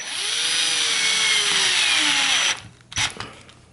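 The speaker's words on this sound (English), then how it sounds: "Drilling the 1 inch hole gives us a little space to put the cap in" A power drill whines steadily as it bores a one-inch hole through wood for a couple of seconds, then stops and gives a few short, rough bursts.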